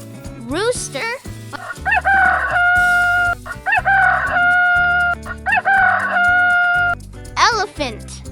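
A rooster crows loudly and close, giving three full cock-a-doodle-doo calls in a regular rhythm, each preceded by shorter rising squawks over a faint low background.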